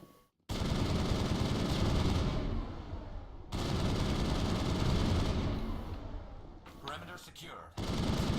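Automatic assault rifle fire from the Mass Effect video game, loud sustained bursts filling most of the stretch with a brief pause, then a short break near the end before firing resumes.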